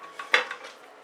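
A tub of Floetrol pouring medium gets stirred for acrylic pour painting, giving a quick, faint scrape and clink of a stirrer against the container, about one second long.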